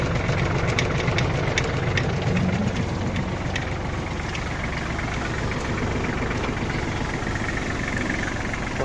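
A Kubota GL21 mini tractor engine idles with a steady low rumble and faint clattering ticks, continuous and close by.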